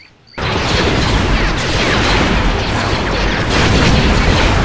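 Power generator blowing up in a Star Wars game set during the fall of the Republic: a sudden loud blast after a brief hush, then a dense, sustained roar of rumbling debris and crackle lasting several seconds.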